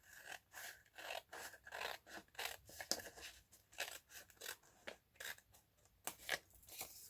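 Scissors cutting paper for a tall flip-flap journal pocket, a series of crisp snipping and rasping strokes in uneven rhythm, close and fairly quiet, with short gaps between cuts.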